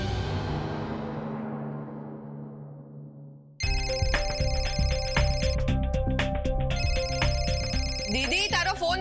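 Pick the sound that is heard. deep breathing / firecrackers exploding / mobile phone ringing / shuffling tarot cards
mobile phone ringing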